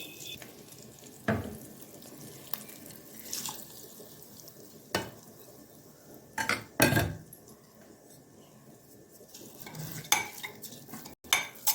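Asafoetida tempering poured into pongal and stirred in, with scattered sharp metal clinks and scrapes of a ladle against the vessel over a faint background hiss, close by and without speech.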